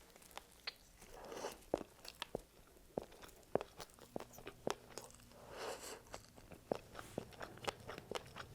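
Crunchy salmon fish balls being chewed close to the mic, a run of sharp, irregular crisp crunches and bites over quiet background with no talking.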